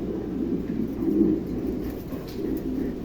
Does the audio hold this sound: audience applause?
no